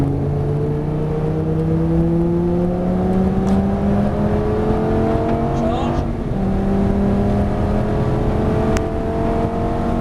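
A Lamborghini Gallardo on the Nogaro circuit, its engine droning steadily upward in pitch as it accelerates, loud and close throughout with a brief gearshift dip midway, while someone talks over it.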